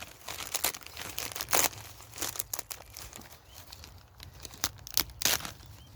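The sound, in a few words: tearing open a plastic bag of Arran seed potatoes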